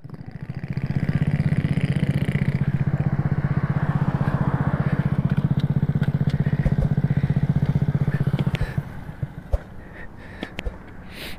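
A 100cc moped engine revs hard at close range as the bike rides on a busy radial road, a loud buzzing drone for several seconds before it drops off, leaving scattered clicks and rattles.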